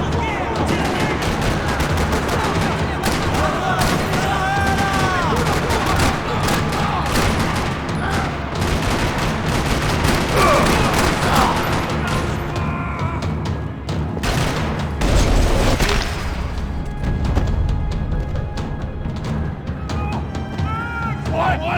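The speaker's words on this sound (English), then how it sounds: "Another parking lot rattling with gunfire." Gunfire rattles across a parking lot in Max Payne 3, with dense bursts of shots and booming impacts going nonstop at high volume, mixed with game music and occasional voices.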